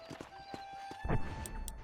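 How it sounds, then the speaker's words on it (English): A war horse's hooves sound in the video game Red Dead Redemption: a few light clip-clop steps, followed by a louder, denser rush of game sound, with no talking. "Ah, esse cavalo de guerra aqui."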